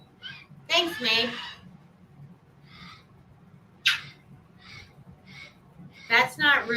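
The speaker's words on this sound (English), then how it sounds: "He's a noisy bird" A noisy pet bird squawks in loud, harsh bursts. Some come as quick doubled calls and others as single cries, with quiet gaps between them against a low indoor hum.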